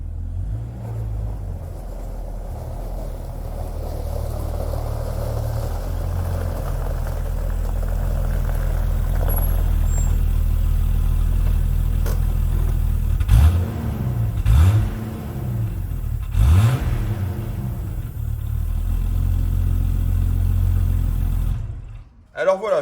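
A Jeep Cherokee XJ with its catalytic converter still in the exhaust idles with a steady low rumble, then gives three sharp throttle blips in quick succession before settling, loud and close.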